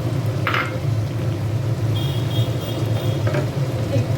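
Chicken sautéing with yogurt in a pan for Golbari-style kosha mangsho, a steady close sizzle and fry with a couple of brief scraping stir sounds.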